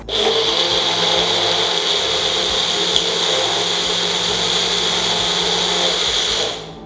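An electric kitchen mixer blends milk for rose milk in a steady, loud, high-pitched whir that runs unbroken for several seconds, then winds down and stops at the end.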